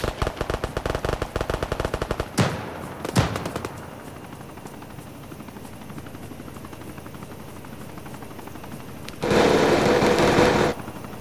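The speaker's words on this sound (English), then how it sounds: "That's a minigun." Minigun fire in the military video game Arma 3 during a town assault: rapid, loud buzzing bursts, a couple of heavy booms, a sustained rotor-like drone, then another dense burst near the end.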